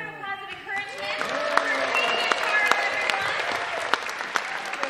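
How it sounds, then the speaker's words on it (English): A Star Wars Weekend audience at Disney's Hollywood Studios gives a round of applause and encouragement. A few voices come first, then clapping builds into a steady, moderately loud wash with sharper single claps on top. "one more round of applause and encouragement"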